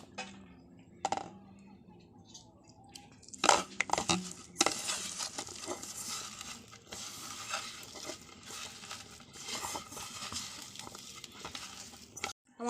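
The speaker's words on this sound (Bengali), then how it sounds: "এবার এটাকে একটু জল দিয়ে মাখবো।" Bitter gourd leaf batter with black cumin being mixed by hand with water in a bowl, soft wet squelching and stirring with occasional clinks of the bowl, irregular bursts, close and moderately quiet.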